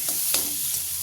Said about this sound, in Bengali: এই দেখো একটু নাড়াচাড়া করে দিচ্ছি একটু